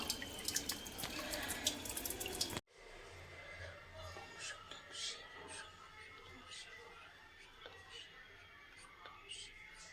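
Water rushes and splashes at first, then quiet dripping and trickling follow as water is poured in to flush out ants, with soft background murmuring.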